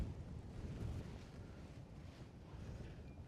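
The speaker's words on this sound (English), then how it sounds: "Really windy now." Strong wind buffeting a microphone on a golf course, a low, rumbling broadband roar that gusts louder at the start and then eases slightly, with no voices.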